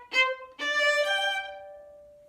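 A violin plays a short crisp staccato note, then a longer slurred legato phrase that rings out and fades, close and clear and heard alone, from a Martini Gavotte solo.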